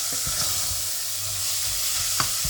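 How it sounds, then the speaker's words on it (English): Wine hits a hot pan to deglaze it and sizzles steadily, with a few soft scrapes and knocks of stirring over the continuous hiss, close and fairly quiet. "I'm going to put in about a quarter of a glass of wine just to deglaze the pan. Just give it a mix"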